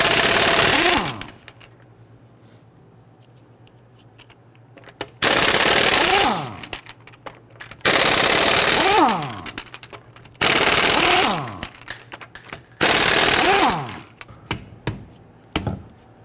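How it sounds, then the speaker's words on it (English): Lug nuts on a Dodge Charger rear wheel being removed with an impact wrench, loud close rattling bursts of a second or two separated by pauses, repeated five times with the pitch winding down at the end of each burst. "loosen and remove the lug nuts."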